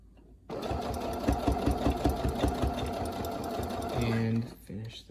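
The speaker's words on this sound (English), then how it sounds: "push it down, and start sewing" Sewing machine stitching a cloth face mask, a steady rapid chatter of needle strokes running continuously for several seconds, close and fairly loud, easing off near the end with a few brief tonal sounds.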